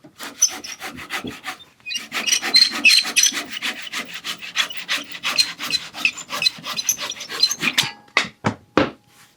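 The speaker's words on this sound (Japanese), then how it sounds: "縦引きのノコ切りでこれをここまで入れます。" A rip saw rasps steadily through wood for a carpentry joint in quick, rhythmic back-and-forth strokes, close and loud, with a short pause early on.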